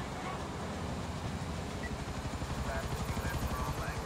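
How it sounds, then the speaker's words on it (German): Helicopter in the video game Grand Theft Auto IV, a steady low rotor chop beating rhythmically throughout and growing more pronounced toward the end, mixed with game traffic noise. "Der Helikopter, wenn er mich noch anschießt."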